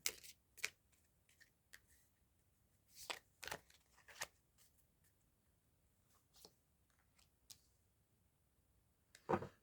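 Tarot cards shuffled and handled in short bursts of crisp riffles and slaps, close and fairly quiet, with gaps of near silence between.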